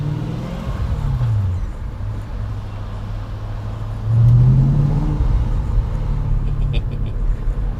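A car engine rumbling steadily while driving, a loud low drone inside the cabin that swells as the engine revs up partway through.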